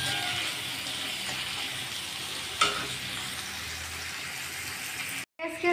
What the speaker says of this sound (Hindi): प्याज और हरी मिर्च अच्छी तरह से फ्राई कर लूँगी।